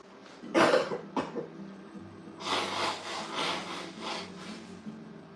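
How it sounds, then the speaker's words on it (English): A person blows their nose in a couple of short bursts, then a longer, drawn-out wet blow follows, close and fairly loud. "I'm gonna blow my nose again."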